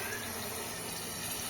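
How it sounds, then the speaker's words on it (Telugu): Water poured into a red dhaba-style paneer curry gravy in a pan, making a close, steady gushing and splashing that runs unbroken for the whole moment with no talk. "దీంట్లోనే కొద్దిగా వాటర్ వేసుకోవాలండి."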